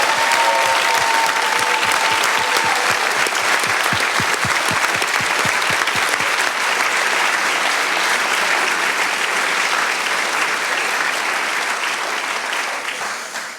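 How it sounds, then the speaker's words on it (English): A large audience at a biosensor contest awards event applauds loudly and steadily, dense clapping that holds throughout and tapers slightly at the very end. "Okay, last big applause, Creasenza."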